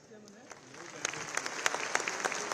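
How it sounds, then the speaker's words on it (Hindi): Applause greets a minister at a National Youth Day event, starting softly and building into sharp, scattered claps from an audience that grow denser toward the end. "जोरदार तालियों के साथ स्वागत"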